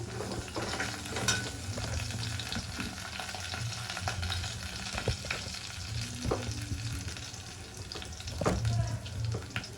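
Steady frying sizzle of a lentil mixture in a pan with occasional scraping and stirring clinks, continuous and fairly close, no talking.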